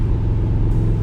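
Loud, steady rumble of a 1964 Corvette coupe engine with side exhaust, idling close by with a deep, even throb.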